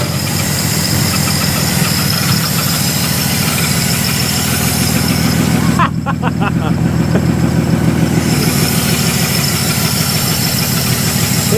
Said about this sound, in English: it fired up and ran. I'm just gonna give it a half twist of idle here